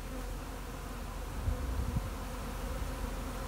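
Steady, low hum of many honey bees buzzing together in late summer at the end of the honey flow, continuous and fairly faint, with no voices.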